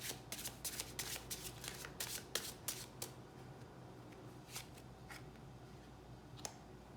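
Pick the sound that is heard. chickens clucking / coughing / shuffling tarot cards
shuffling tarot cards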